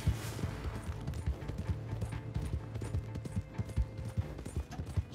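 Horse hooves clip-clopping at a steady trot in Red Dead Redemption 2, rhythmic close thuds over a low rumbling background, with a few faint sharp bangs mixed in.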